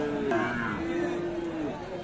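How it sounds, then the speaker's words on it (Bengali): A bull calf, Friesian or crossbred, moos low and steady for about two seconds amid a murmuring crowd at Aftabganj livestock market, Dinajpur, with voices chattering in the background. "একটা ষাঁড় বাচ্চা দেখছি আমরা"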